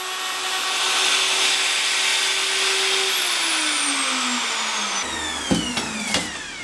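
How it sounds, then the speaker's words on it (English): A router fitted with a 12mm bit whines loudly and steadily as it enlarges a hole, then its pitch slowly drops as the motor spins down, followed by a few light knocks and clatters. "I'll use this 12mm diameter router bit and see if we can enlarge the hole a little bit with that"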